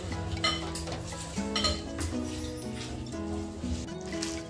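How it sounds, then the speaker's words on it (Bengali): A spice mix of ginger-garlic paste, garam masala and coriander leaves is kneaded and mashed by hand in a bowl. The clip holds soft, close, wet squishing with faint clinks against the dish, and no talk. "এবার আমি সবগুলো একসঙ্গে ভালো করে চটকে মাখিয়ে নেব।"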